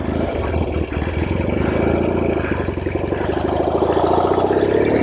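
A 1967 Norton P11 motorcycle with a Norton Atlas 750 engine and Matchless frame runs steadily nearby, its loud, even throbbing engine pulse continuing throughout without speech.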